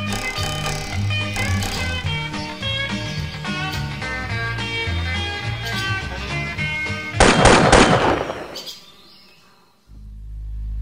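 Upbeat music plays, then a sudden loud burst of shotgun fire at a goose hunt cuts in near the end before a brief lull and the music returns.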